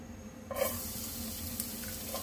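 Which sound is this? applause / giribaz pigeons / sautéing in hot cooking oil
sautéing in hot cooking oil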